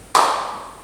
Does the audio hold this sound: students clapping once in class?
yes